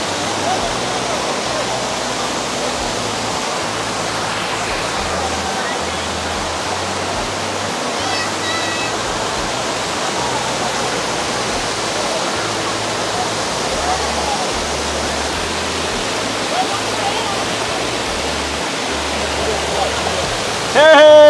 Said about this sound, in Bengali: আমার পিছনে বিশাল ঝর্ণা, এক অন্যরকম অনুভূতি।